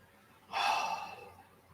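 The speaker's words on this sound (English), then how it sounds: "Being very aware as we inhale that this is us inhaling. And very aware as we exhale that this is us exhaling." One slow, deep breath drawn in and released during a calm meditation, close and soft, with a breathy swell and no talking.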